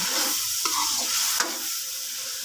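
Chicken keema roasting in a pan over a medium-high flame makes a continuous sizzle with a few sharp scrapes and knocks from a stirring spoon, close and moderately loud.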